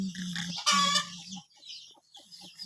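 Chickens near a coop on a farm give loud, close clucks and a squawking call, followed by quieter scattered clucking in the background.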